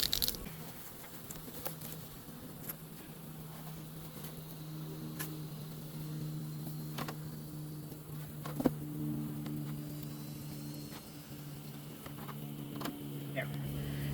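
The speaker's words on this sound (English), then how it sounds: "Okay, lots of bees." Honeybees at an open hive during hot-weather beekeeping hum in a continuous close, soft drone with a few louder buzzes passing by.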